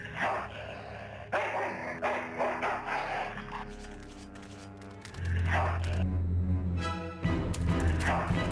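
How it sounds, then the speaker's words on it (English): Dog barking in the Full Throttle Remastered video game, a few sharp barks and yips among game sounds and music, moderately loud. "Dog jumps in car, eats meat,"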